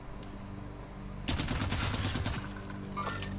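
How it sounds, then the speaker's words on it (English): A burst of rapid automatic gunfire from a CX-9 in the shooter Warzone rattles loudly for about a second amid lower background game noise, followed by fainter scattered sounds. "I'm under fire!"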